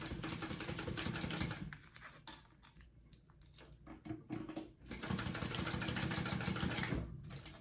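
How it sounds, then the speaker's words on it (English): Sewing machine basting sling backpack pieces closed runs in rapid stitching bursts, stopping briefly in the middle before starting again, heard close and fairly quiet. "I'm going to baste these closed real quick."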